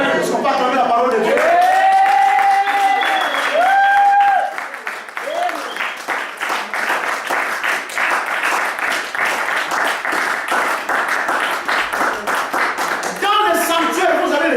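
Church congregation applauding in a sanctuary, a steady wash of close clapping that swells for several seconds, with a preacher's voice speaking over the start and end.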